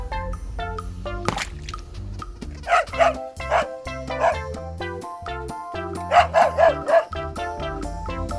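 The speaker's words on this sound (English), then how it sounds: "Dog." A cartoon dog barks and yips in short repeated bursts over bright background music, with a voice briefly speaking.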